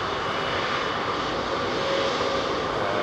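An airliner powered by Rolls-Royce Trent jet engines roars past at London Heathrow, a loud, dense and steady engine drone filling the full few seconds without any voices.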